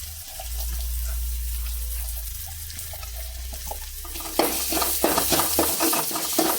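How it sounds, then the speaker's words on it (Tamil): Wet squelching as tamarind and tomato are mashed together by hand, soft irregular squishes that grow louder and busier toward the end, over a low steady hum. "இப்போ ரெண்டையும் ஒன்றா பிசைஞ்சு விட்றேன்."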